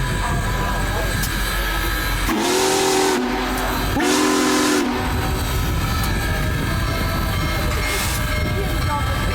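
The Union Pacific Big Boy 4014 steam locomotive, stopped at Sterling, sounds two long, loud whistle blasts in close succession over a background rumble, with bystanders talking nearby.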